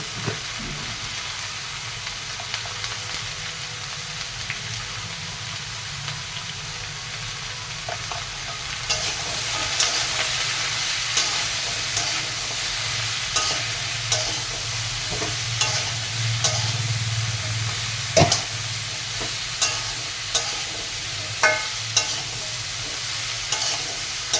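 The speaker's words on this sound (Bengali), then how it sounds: "কারি পাতা দিয়ে পাঁচফোড়ন ফোড়ন দিচ্ছি" Panch phoron spices and curry leaves sizzle and crackle steadily in hot oil, a continuous frying hiss with scattered pops and the occasional scrape of stirring, growing louder partway through.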